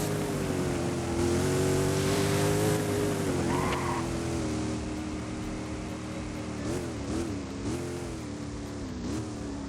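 A Devel Sixteen supercar accelerating in the Roblox game Driving Empire, a steady layered engine drone that climbs and wavers in pitch, with brief tire-like squeals and a sustained loud roar throughout.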